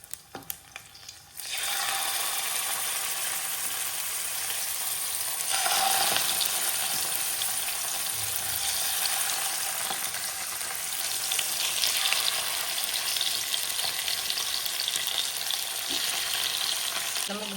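Anjal fish fries in a pan over low gas: a steady, close crackling sizzle begins after a quiet second and carries on evenly, with occasional stirring or scraping and no voices.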